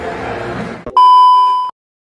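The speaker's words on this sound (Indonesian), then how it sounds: "kita langsung telepon Tegarnya" Phone call tone on a mobile handset: a short burst of noise, then a single loud, steady electronic beep held for under a second before cutting off to silence.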